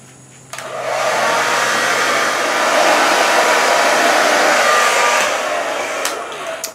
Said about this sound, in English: you can heat it right back up using your hair dryer